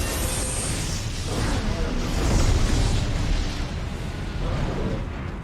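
A booming explosion attack in the Kaiju Universe video game, a dense, roaring blast that swells in the middle and rumbles on for several seconds at steady loudness.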